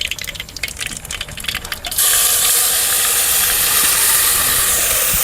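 Gravy hits a hot pan of karela (bitter gourd) curry after mustard seeds and cumin, setting off an abrupt, loud, steady sizzle that keeps going.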